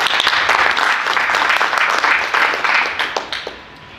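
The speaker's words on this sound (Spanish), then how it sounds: "Si entendió algo, déle un aplauso al Señor." A church congregation applauding after a sermon, a loud close burst of clapping that stays dense for about three seconds, then breaks into scattered claps and fades.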